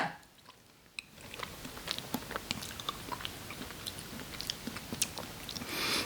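Mövenpick maple walnut ice cream is chewed close up, with a steady run of soft, wet bites and crunches of walnut pieces, alone and with no talk.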